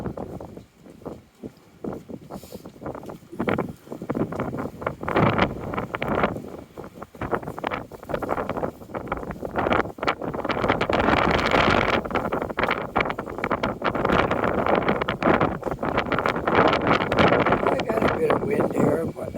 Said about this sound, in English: Wind here, but not too bad.